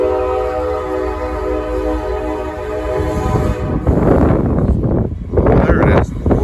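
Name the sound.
passing train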